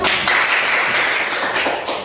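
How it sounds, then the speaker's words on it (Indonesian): A classroom of students claps their hands together in a short, loud burst of close, busy clapping with slight pulses in rhythm and no voices on top. "Tepuk tangan untuk kita semua"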